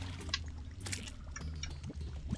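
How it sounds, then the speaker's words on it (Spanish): Splashing, pouring water in Terraria, a steady liquid wash with brief brighter splashes running throughout at moderate level. "pues aquí hay agua"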